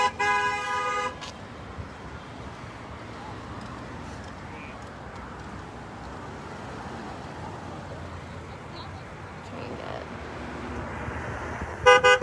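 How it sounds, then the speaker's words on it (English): Short car horn toots of support at a street protest in west Toledo sound at the very start and again near the end, with steady traffic rumble and a few distant voices in between. "We've been hearing honks of support all day."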